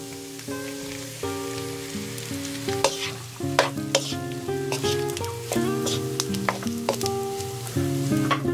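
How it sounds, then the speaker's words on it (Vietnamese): Rice stir-fries over medium heat in a pan as a spatula scrapes and clinks repeatedly, a continuous frying hiss with music playing underneath. "Rồi mình cho cơm vào chiên với lửa vừa."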